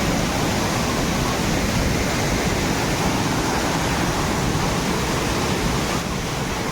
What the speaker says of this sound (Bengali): বহুত ফেমাস একটা ঝোড়া, যে ঝোড়াতে আমরা আজকে এসেছি